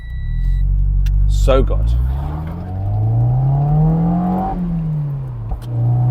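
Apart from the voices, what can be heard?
Mazda MX-5 NC engine with upgraded exhaust manifold revving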